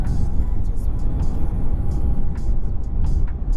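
Riding a Harley-Davidson LiveWire electric motorcycle on the road, with a steady loud rush of wind and road noise and a faint motor whine running unbroken underneath.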